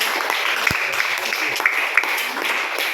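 A church congregation claps for the Lord Jesus during a Spanish-language service, a steady, moderately loud patter of hands with voices mixed in throughout.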